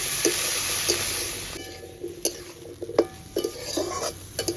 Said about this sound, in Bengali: এটা মশলার সঙ্গে একটু ভালো করে একটু কষে নেব